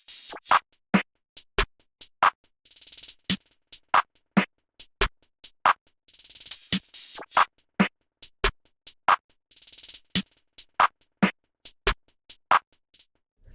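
Three layered snare samples in an FL Studio beat for an ambient track hit in a sparse repeating pattern, crisp sharp cracks with a few longer noisy hits, alone and up close.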